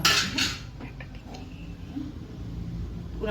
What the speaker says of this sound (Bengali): এখন এখানে ঢাকা দিয়ে দিলাম